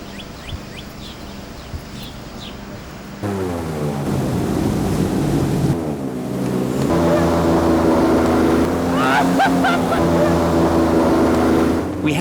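An airboat roars along the Mississippi River, its big propeller and engine droning loud and close, rising in pitch as it speeds up, with voices under the noise.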